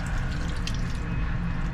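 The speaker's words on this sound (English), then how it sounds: "The soap dispenser was working fine, as was the water tap." A water tap runs steadily in the cramped toilet of a high-speed train, a continuous close hiss of flowing water over the low rumble of the moving carriage, with no talking.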